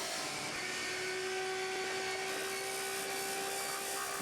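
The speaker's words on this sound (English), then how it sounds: "open the black water valve, then turn on the macerating pump" An RV macerating pump emptying a black water tank gives a loud, steady whirring hum with a constant whine, running without pause throughout.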